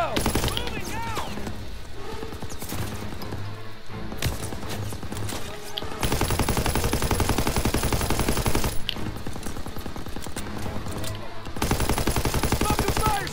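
Machine gun fire rattles in World War II combat in Call of Duty WW2, long rapid bursts of automatic shots running through the clip alongside other battle noise, with voices shouting over the fighting.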